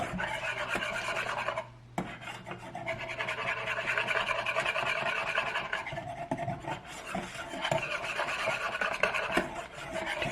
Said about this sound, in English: Keep stirring, keep stirring.